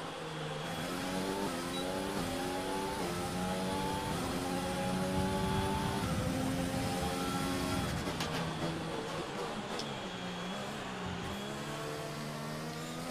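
A Formula 1 race car on a hot lap in the F1 2020 video game, its engine revving hard through rising and falling gear shifts, loud and continuous with brief downshift dips.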